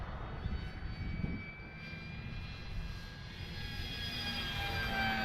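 An Arrows RC Bigfoot model airplane motor drones steadily as the plane flies low near a runway, a continuous, fairly even whine with a slight swell toward the end and no talking.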